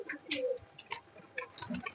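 Pigeons in a loft give a few soft, low coos and scattered chirps in short bursts, fairly close and moderate in volume, with small rustles between calls.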